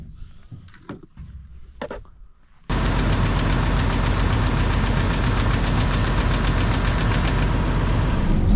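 An excavator's diesel engine starts up and runs steadily and loudly after a few seconds of quieter sounds, with a dense, even rumble and rapid knocking texture throughout, heard during farm work.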